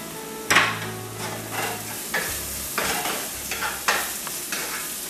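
Garlic and green chili sauté in a hot pan, a soft sizzle broken by a series of sharp scrapes and clinks as a spoon stirs against the pan roughly every second, close and fairly quiet.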